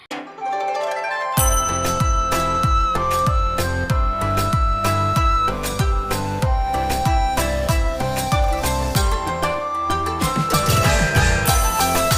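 A brass puja bell rings during home worship on the first Thursday of Margashirsha. It is struck in a steady, even rhythm for about ten seconds, with bright ringing overtones and no talking.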